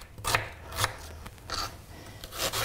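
An onion is cut on a board with a knife, giving a handful of spaced, crisp chopping strokes, fairly quiet and close with no talking.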